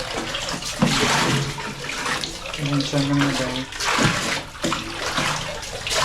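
Water pours and splashes as it is transferred into a large container at home, a continuous rushing, sloshing stream with shifting intensity, while a person talks over it.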